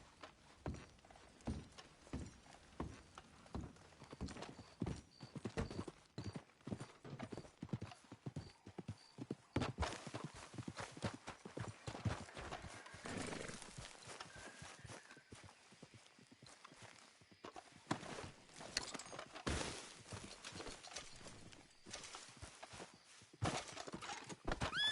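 Horse hooves clip-clopping at a steady trot in a PS4 open-world western game, rhythmic and close, with an occasional whinny and outdoor ambience.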